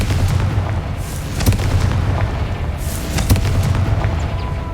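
A Confringo fire curse in the Hogwarts Legacy video game goes off as a loud, rumbling blast, with two sharp booming impacts over a sustained low roar and no talking.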